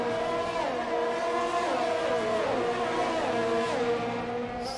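F1 2020 race cars scream around the Mexico circuit in close battle, several high-pitched engines rising and dropping through gear changes, layered and steady without any voices.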